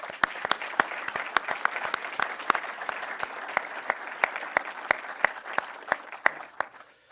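Applause rings out at a Navy Chief Petty Officer birthday ceremony, steady and moderately close for about seven seconds, with sharp individual claps popping above the dense wash of clapping.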